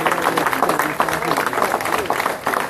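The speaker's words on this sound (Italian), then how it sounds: "C'è un bel applauso a Silvio" Live-show audience in Italy clapping for Silvio, the applause steady, dense and fairly loud throughout with crowd noise mixed in.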